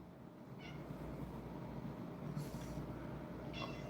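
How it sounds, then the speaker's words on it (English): Cats outside at a door let out a few faint, high meows in short separate bursts. The calls sit over a low, steady background rumble, with no one talking. "Those cats out there eating those at the door"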